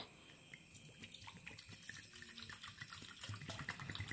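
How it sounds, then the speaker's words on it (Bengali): Tap water runs steadily into a bowl in a home kitchen while preparing KFC-style fried chicken, a soft continuous splashing and trickling close by, with no talking. "এরপর আমি একটি বাটির মধ্যে নিয়ে নিচ্ছি জল।"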